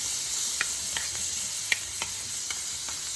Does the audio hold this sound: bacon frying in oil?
yes